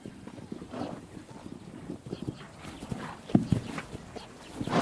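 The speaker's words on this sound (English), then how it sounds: "Small but hardy, Mongolian horses endure a harsh climate and grow a thick winter coat." Mongolian horses clip-clop over the ground, an irregular patter of hoof strikes at moderate distance with a few louder thuds, set against faint outdoor background.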